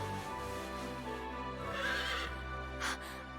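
A horse in the game Fire Emblem Warriors: Three Hopes whinnies loudly over a steady droning musical backdrop, with a couple of bright neighing bursts close up.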